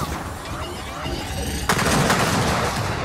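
Sniper gunfire in the Gears of War 4 campaign rings out as a sudden sharp crack midway, followed by a dense, loud continuing barrage of battle noise.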